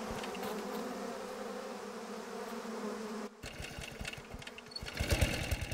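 A swarm of killer bees in the southern United States drones steadily with a dense, continuous buzz, then after a brief dip the sound turns busier and more agitated with rising intensity toward the end.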